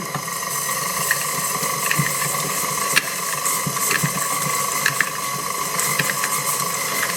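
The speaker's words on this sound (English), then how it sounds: "So we will start creaming our butter and our sugar together." An electric mixer creams butter and sugar together for a Baked Alaska, producing a steady, loud mechanical whir with a gritty rattling texture throughout.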